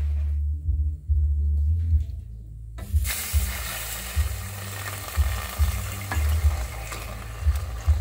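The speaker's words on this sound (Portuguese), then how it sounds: "Agora, eu vou colocar o leite." Milk poured into melted, caramelized sugar in a pan while making doce de leite sets off a sudden loud sizzle that keeps hissing and bubbling steadily at close range, with no talking.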